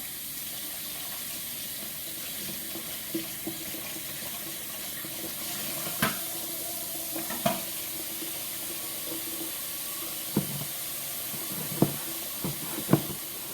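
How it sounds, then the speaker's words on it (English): Hot water runs steadily from a kitchen tap while a jar lid is rinsed under it, a constant close hiss broken by several sharp clinks and knocks as the lid is handled in the sink. "So I'm going to take that and run hot water in it."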